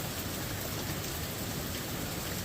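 Heavy rain falls in a dense, steady hiss with no pauses, loud and close.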